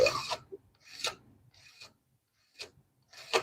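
A blade is drawn across sharpening stones to remove the burr, heard as a few short, quiet rasping strokes separated by brief pauses.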